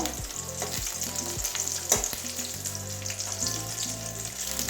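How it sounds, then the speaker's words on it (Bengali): Whole pointed gourd (potol) frying in oil in a pan, a strong continuous sizzle with crackling spatters and a few faint clinks, close and loud with no talking. "ওই দিকটাও এরকমই একটু লাল লাল করে ভেজে নেবো"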